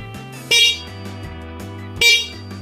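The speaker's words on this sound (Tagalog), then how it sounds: "Ito yung sa busina ko." An electric scooter horn gives two short, loud honks about a second and a half apart, over a steady, pulsing electronic buzz.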